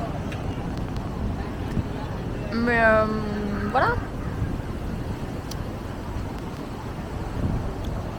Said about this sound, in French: un peu de vent, un peu de tempête.